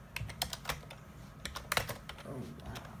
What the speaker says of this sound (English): it's kind of slow for me typing because I'm only using one hand